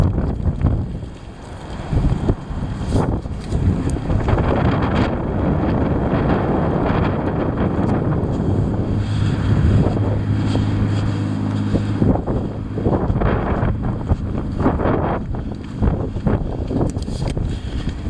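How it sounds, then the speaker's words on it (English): Heavy wind roars steadily and loudly for the whole stretch, buffeting the microphone with broad rumbling gusts that swell and ease without a break. "The heavy wind."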